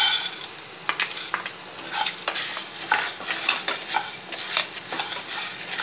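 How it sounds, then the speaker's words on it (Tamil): Sago fries lightly in hot ghee for pongal, a soft sizzle under repeated clinks and scrapes of a stirring spoon against the pan. "நெய் சூடு. இதில் ஜவ்வரிசியை லைட்டாக வறுத்துக்குவோம்"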